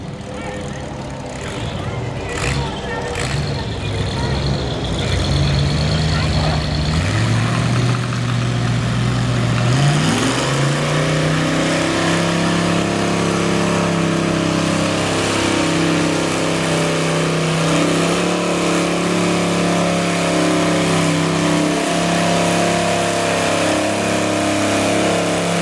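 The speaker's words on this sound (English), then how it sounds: "Peter Van Hall going to make his way down the track with the small block Chevy under the hood of the Cub Cadet" A Cub Cadet lawn pulling tractor with a small block Chevy engine roars loudly at a tractor pull, revving up and holding a steady, throbbing pitch as it pulls down the track, with an announcer talking over it.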